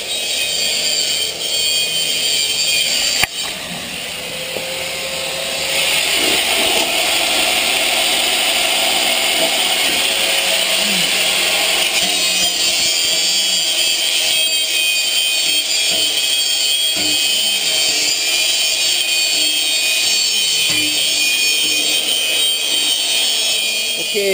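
A power tool drills steadily into metal at an inspection pit being fitted with V-rails, as a loud, continuous grinding whine that runs on for more than twenty seconds with a brief knock near the start.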